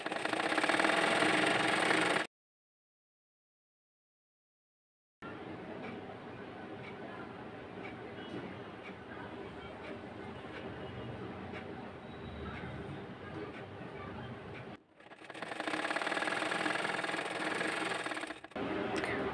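A sewing machine stitches blouse fabric with a steady, fast mechanical whirring chatter that runs for long stretches, broken by a few seconds of silence, with a quieter hum in between.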